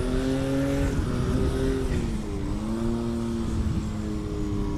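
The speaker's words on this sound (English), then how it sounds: "Revving that engine up." An aircraft engine at a short takeoff and landing (STOL) competition revs loudly and up close with a steady, droning roar that rises and falls in pitch, with no talking.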